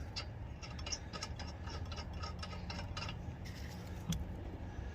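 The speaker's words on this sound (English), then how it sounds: "take your lug nuts and hand tighten all these" Lug nuts hand-tightened onto the spare tire of a Kia Seltos, giving a steady run of small metallic clicks and ratcheting ticks, close and fairly quiet, with no talking.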